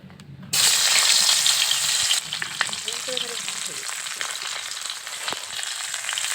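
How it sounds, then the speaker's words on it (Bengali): Cauliflower florets fry in hot oil in a pan, starting with a loud sudden sizzle as they go in, then settling into a steady close hiss with occasional pops and stirring sounds. "এখন ফুলকপিগুলোকে একটু ভেজে নেব"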